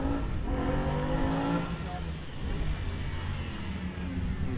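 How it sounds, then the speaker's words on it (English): An Aston Martin Vantage race car at a Loton Park hillclimb gives a deep grumbling engine note that rises and then fades into a rumbling roar as it approaches, heard from a moderate distance. "we've got the big grumbling Aston Martin Vantage coming our way"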